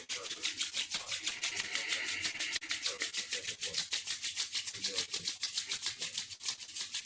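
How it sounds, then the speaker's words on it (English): Hands rubbed briskly together for warmth while seated during a kundalini yoga session, a steady dry swishing friction repeating in quick rhythmic strokes, close and continuous. "bringing your hands together, rubbing them together for some warmth"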